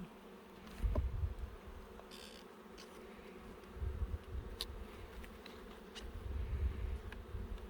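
Honeybees drone softly around an open hive during an inspection. The low buzzing hum is quiet and close, swelling and fading in waves as the bees move.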